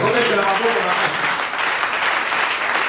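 A church congregation bursts into loud, dense applause, many hands clapping together at close range without a break for a few seconds.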